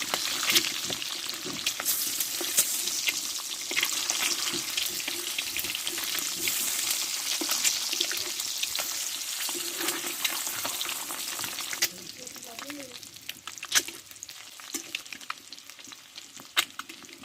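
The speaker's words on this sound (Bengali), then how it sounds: "দেখো ডিমগুলো এক পিস ভাজা হয়ে গেছে আমি উল্টিয়ে দেবো" Eggs frying in hot oil give a loud, steady close sizzle with stirring and spatula scrapes, easing to quieter crackle and a few clinks toward the end.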